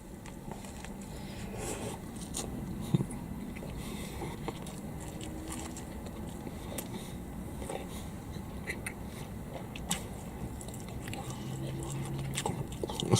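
Close-up, steady chewing of a McDonald's Big Mac with bacon and crispy lettuce: continuous soft crunching and wet mouth sounds with occasional sharper bites throughout.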